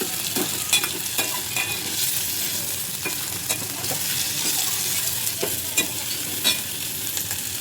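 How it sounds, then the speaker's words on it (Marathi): Onion and spices fry steadily in a pan until browning, a continuous close sizzle with scattered crackles and stirring scrapes, no voices over it. "चांगलं ब्राऊन होईपर्यंत याला फ्राय करून घ्या गाईस"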